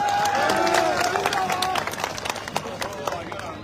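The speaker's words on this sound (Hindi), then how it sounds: "ताली बजाकर स्वागत करें" Crowd at a nomination rally in Kota claps to welcome a guest, a busy patter of hands mixed with voices. It is loudest at first, then thins into scattered claps.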